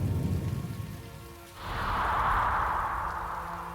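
Cartoon rain from the Bakugan series: after a short low rumble, a steady hissing downpour swells in and holds, moderately loud and even.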